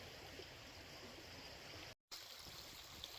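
Steady, dense rush of creek water flowing at a gold prospecting spot on public grounds, continuous and fairly close, with a brief dropout near the middle and no talking.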